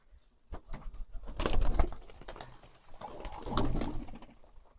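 Pigeons feeding indoors on food scattered for them, soft cooing with flutters and pecking patter close by, swelling into two busier bursts of activity, no talking.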